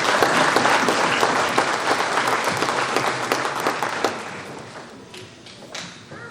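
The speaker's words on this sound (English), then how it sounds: "Let's give them a round of applause." An audience at an annual farmers' achievement awards banquet claps loudly with dense, steady applause that gradually thins out and fades toward the end.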